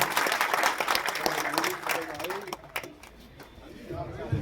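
A crowd at a Congress election rally claps to welcome a candidate's father. The dense applause is loudest at first and fades out midway, with talk running over it.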